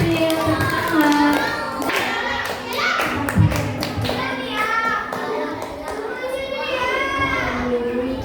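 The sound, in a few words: applause at a school Easter service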